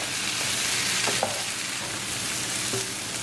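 Aloo gobi (potatoes and cauliflower) frying in a pan while being stirred, a dense, steady sizzle with a few light utensil clinks throughout and no talking.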